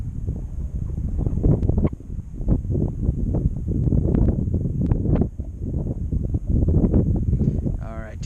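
Gusty wind buffets a microphone outdoors on a windy day during a model aircraft flight, a steady rumbling roar with repeated louder surges throughout.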